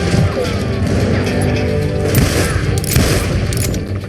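Western-style gunfire from the shooter game Call of Juarez: Gunslinger: loud, rapid overlapping shots and booms in a dense barrage with crashing impacts, sustained throughout.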